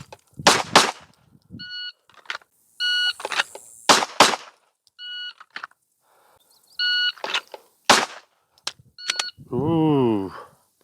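A handgun fires in a strong-hand-only qualification drill at 3 yards, with sharp, loud shots in pairs between electronic timer beeps and someone talking throughout.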